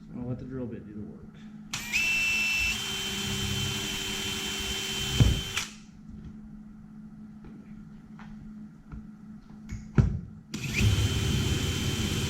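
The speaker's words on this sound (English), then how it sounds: "So I'll let the drill bit do the work." A power drill spins a tiny bit into the steel cab roof of a 2007–2013 Chevy GMC truck, whirring in two loud bursts separated by quieter handling noises and clunks.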